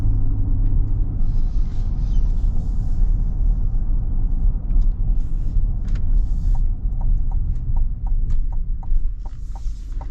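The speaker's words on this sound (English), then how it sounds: "Gotta love the sound of the V8" V8 engine of a 2024 SUV, either a Jeep Wagoneer or Chevy Tahoe, rumbling while driving; a loud, steady low drone heard from the cabin with faint light ticking sounds over it.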